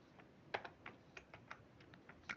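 Keys on a computer keyboard are tapped in an irregular run of soft, close clicks, about a dozen presses spread across a couple of seconds, with no talking.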